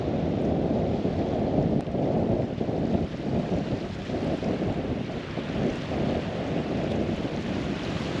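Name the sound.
water and wind at Arkabutla lake shore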